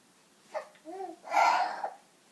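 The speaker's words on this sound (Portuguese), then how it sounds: "É, aqueles gritão que ele dá, ele fica chamando a gente" A baby lets out short babbling vocal bursts, then a louder, sustained shout-like squeal, close and clear in a quiet room.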